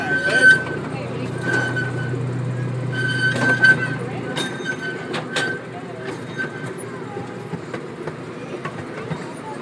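Miniature train giving rides in a park, its steady rolling rumble and clatter continuing throughout with a few sharp knocks and squeaks, fairly close; voices talk faintly in the background.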